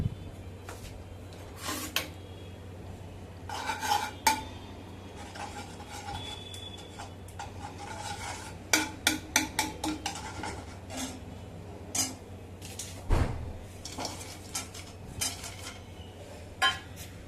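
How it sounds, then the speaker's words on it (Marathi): Nuts roasting in plenty of ghee in a pan, stirred and scraped with a metal spoon; irregular clinks and scrapes of utensil on pan over a low steady sizzle, close and moderately loud, no talk. "सगळ्यात आधी आपण हे नट्स आहेत हे भाजून घेऊया."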